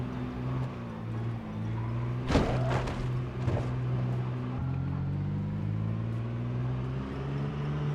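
A loud truck engine in a survival horde video game drones at a low, steady pitch and shifts gear partway through, with a few brief clattering knocks over the running motor.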